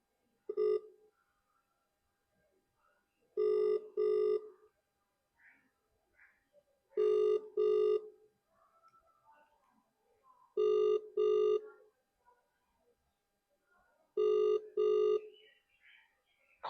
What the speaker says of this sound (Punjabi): ਚੱਲ ਫੋਨ ਕਰਕੇ ਵੇਖਦੀ ਆ